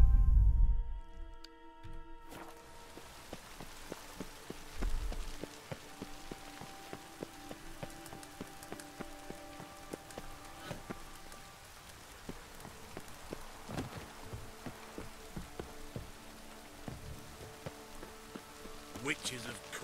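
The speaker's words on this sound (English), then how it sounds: "Witches have conjured rain." Rain falls steadily in the video game The Witcher 3, a dense, even patter of drops on surfaces. It is faint and continuous, with soft game noises scattered through it and a voice briefly at the start.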